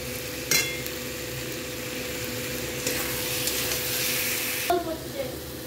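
Spices sizzling in a pan while being stirred for Bengali fish kalia, with a steady frying hiss and occasional scrapes and clinks of the spatula, fairly close and continuous.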